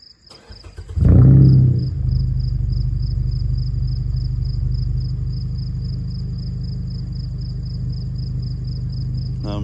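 A 2014 Mazda 3 2.0 with a resonator delete and 3-inch exhaust from the cat back starts up and settles into a steady, deep, rumbling idle, heard close by and continuously, with a faint high ticking tone throughout.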